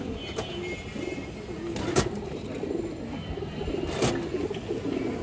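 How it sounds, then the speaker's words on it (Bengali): A female pigeon coos in soft, low murmurs against a steady background hum, with a couple of sharp clicks or knocks scattered between the calls. "একটা খুবই সুন্দর মাদি কবুতর"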